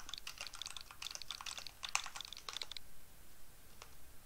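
Rapid typing on a computer keyboard, close and fairly quiet, with bursts of key clicks for a few seconds before trailing off into a couple of isolated taps.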